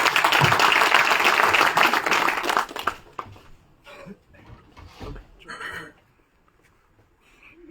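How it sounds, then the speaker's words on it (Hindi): Crowd at a BJP joining event in Jammu and Kashmir applauds to welcome Rajya Sabha MP Ghulam Ali Khatana, loud dense clapping for about three seconds, then fading into scattered claps, coughs and faint murmurs. "जोरदार तालियों से स्वागत।"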